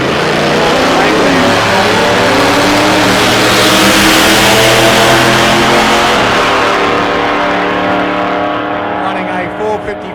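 A big Dodge Phoenix race car with a loud, continuous engine roar at a nostalgia drag race, close and steady throughout with rich harmonic drone, fading slightly at the end, with a commentator talking over it.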